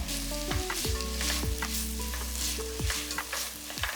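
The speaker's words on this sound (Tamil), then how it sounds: "வெந்தயக்கீரை இதில் போட்டு நம்ம வதக்கணும்னு வைங்களேன்" Fenugreek leaves being sautéed into an onion, tomato and coconut masala for chicken gravy, with a soft sizzle and regular spoon strokes scraping and knocking on the pan about every half second, near and unaccompanied by talk.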